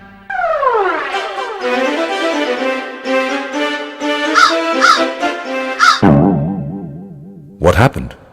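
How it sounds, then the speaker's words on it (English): A crow caws repeatedly, loud and near, its harsh calls over sustained tonal music, with a final sharp caw after the music drops away. "Have you not seen a crow before?"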